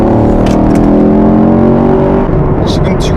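Loud, close engine roar from a Chevrolet Camaro SS with a 6.2L V8 accelerating, a rich steady drone that eases off near the end while sharp crackles from the exhaust pop through.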